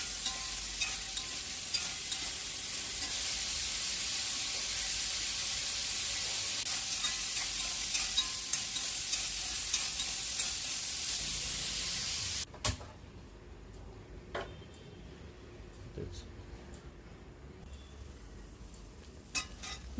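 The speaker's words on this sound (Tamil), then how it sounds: "அது வந்து நல்லா ஆயிலே ஃப்ரை பண்ணி எடுக்கணும்." Carrot, beans, potato and cauliflower fry in oil with a loud, steady sizzle for about twelve seconds. The sizzle then drops away, leaving quieter scattered clicks and knocks from utensils.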